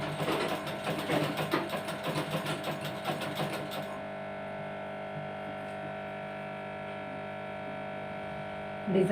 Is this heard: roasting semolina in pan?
no